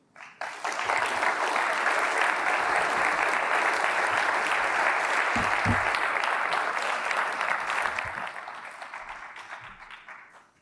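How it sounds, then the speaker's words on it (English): An audience at a conference applauds after a keynote speech, a dense, steady wash of clapping that starts abruptly, holds strong for several seconds, then tapers off gradually. "can we get one more round of applause, please?"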